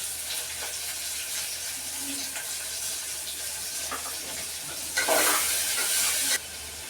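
Onions fry in a pan of oil for mutton curry, giving a continuous soft sizzle with occasional stirring scrapes and a brief louder burst of hiss near the end.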